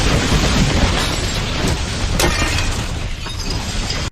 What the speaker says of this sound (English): That's like an explosion